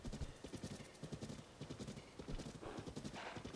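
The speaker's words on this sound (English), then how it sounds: "Ta-da, we have a horse." Horse hooves clip-clop in Zelda: Tears of the Kingdom, a quick steady patter of trotting steps with a brief whinny, loud and close throughout.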